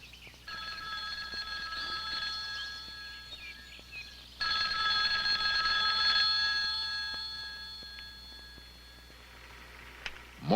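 A telephone bell rings in repeated bursts, fairly close and clear, with a brief pause before a louder second stretch of ringing.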